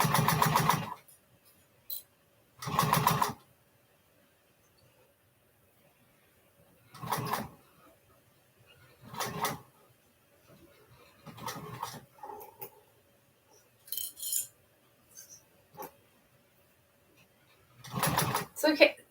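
A sewing machine stitching a custom bag in short runs, each burst a rapid buzzing whir lasting about a second, separated by long quiet pauses, close and moderately loud.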